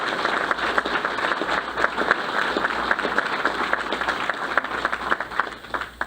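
An audience at a school board of education meeting claps steadily for a girls' outdoor track and field team, a dense, even wash of applause from a sizeable crowd lasting throughout and tapering slightly at the end.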